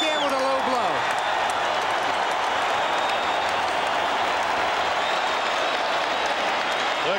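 The arena crowd at a Holyfield versus Foreman heavyweight title fight roars and applauds in a dense, sustained wash of noise while a commentator talks over it.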